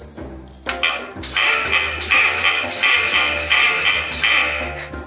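Reconstructed Parasaurolophus dinosaur call, air blown through the hollow head crest, heard as a loud, sustained horn-like bellow with a breathy edge, swelling in repeated pulses after a short quiet start at a nature museum exhibit.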